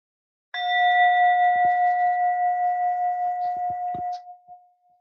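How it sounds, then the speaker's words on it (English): A meditation bell is struck once and rings out with a clear, pure tone that hangs and slowly fades over several seconds, while a few soft shuffling thumps sound underneath. "I'll just invite the bell."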